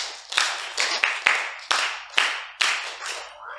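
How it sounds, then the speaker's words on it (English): Hands clap close by in a loose, uneven series of about eight sharp claps during a children's counting activity, bright and percussive with short decays between them. "And then we're going to clap."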